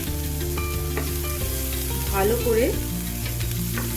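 Ginger and garlic frying in a pan for begun bharta, a steady close sizzle with stirring scrapes throughout, a brief spoken phrase over it.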